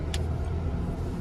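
A stock base Ford Bronco with small tires and no lockers crawls up an off-road hill in crawler gear and 4-low, its engine giving a steady, low rumble. There is a brief click near the start.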